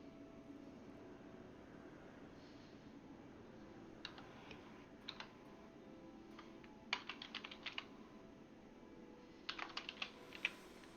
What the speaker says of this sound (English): Who's typing like a madman?